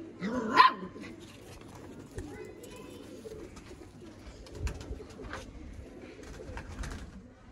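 A female dog barks close by with a few sharp yelps early on and scattered later, amid pigeons cooing at a breeding setup, while people talk quietly in the background.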